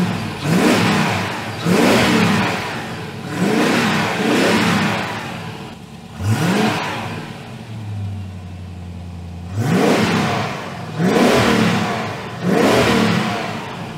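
A TVR Chimaera 400 sports car engine runs nearby, revving in repeated surges that rise and fall every second or two, with a low steady idle between bursts.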